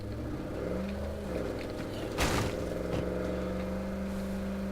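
A vehicle drives in State of Decay 2, a steady droning engine with shifting pitch and a sharp thump midway, loud and continuous with no talking.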